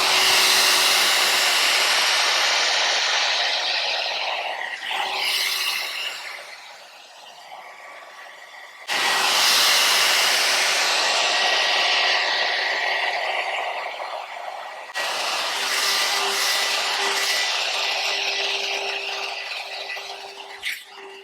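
An Alan Truman blow brush hair dryer runs loudly and steadily as a close airy roar, its pitch and tone shifting as it is moved, cutting out briefly twice before starting again.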